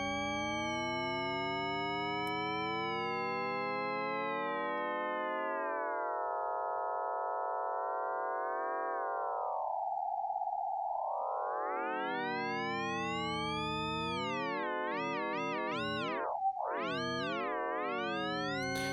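Layered sine tones from the Endless Series synth plugin by Oli Larkin glide and bend together, converging into a single pitch mid-way, then spreading and wobbling in fast psychedelic sweeps, steady and alone throughout.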